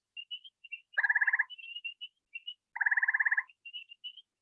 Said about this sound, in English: Peepers in the background.